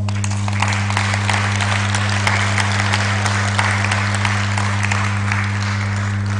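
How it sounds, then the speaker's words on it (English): A conference audience at a forum in Tanzania applauds panelists, producing a dense, even wash of clapping that holds steady and loud throughout over a constant low hum. "Let's give our panelists another round of applause."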